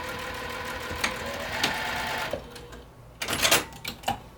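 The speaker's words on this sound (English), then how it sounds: "we're just going to sew on those lines. I'm going to back stitch at the beginning and the end" A sewing machine hums steadily as it stitches darts on a satchel, with soft thumps as it stops and back-stitches. After a pause, it finishes with a few short, clattering mechanical bursts.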